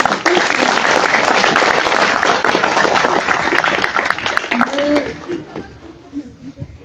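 Crowd applause at a PTI political gathering, a dense and loud wash of clapping with chatter underneath that thins out and fades toward the end.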